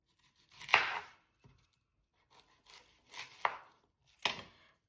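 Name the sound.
chopping onions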